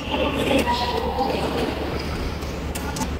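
A KTX high-speed train pulls into Pohang Station in Korea, giving a steady, loud, close rumble and roar that fills the whole clip, with faint clicking and rattling on top.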